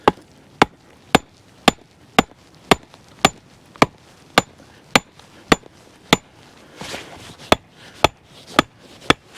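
A tent stake being hammered into the ground at a campsite: about sixteen sharp, evenly spaced metallic strikes, roughly two per second, loud and close, with no voices.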